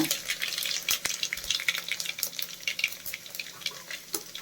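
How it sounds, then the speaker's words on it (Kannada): Mustard seeds and cumin crackle and pop in hot oil, a dense run of sharp close snaps over a steady sizzle, with no talking. "ಸಾಸಿವೆ ಮತ್ತು ಜೀರಿಗೆ ಎರಡೂ ಚಟಪಟ ಅಂತಿದೆ"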